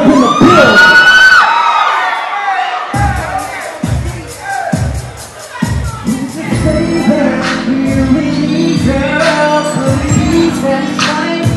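A crowd at a live hip-hop show in New York cheering, whooping and yelling loudly after a call for noise, over pounding music with a rhythmic beat and sung vocals.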